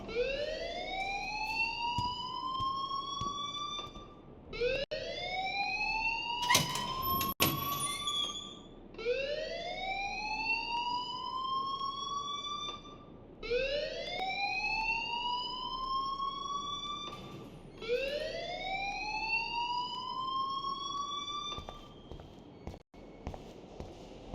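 An alarm in the video game Life is Strange sounds in five repeated rising electronic whoops, each about four seconds long, moderately loud over a quiet room tone.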